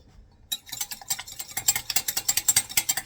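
An egg with a pinch of salt is whisked in a bowl for Hungarian palacsinta crepe batter. After a short silence comes a quick, steady run of close, clicking whisk strokes.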